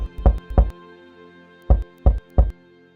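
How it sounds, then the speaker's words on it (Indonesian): Five knocks on a wooden door in a Balinese folk-tale 2D animation, struck as a pair, a brief pause, then a group of three, each one sharp and loud with nothing else around them. "Kesuna mengetuk pintu."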